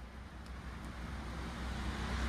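A car reversing slowly in a tight space, a low steady engine hum with faint road rumble throughout.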